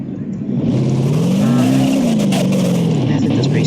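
A car engine in BeamNG.drive, a soft-body physics driving game, revs up and holds a steady, loud drone with rising and falling pitch, accompanied by faint tire noise.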